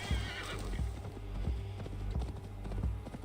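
A horse in a video game gallops with a steady, close clip-clop of hooves and lets out a whinny, its hoofbeats repeating evenly throughout.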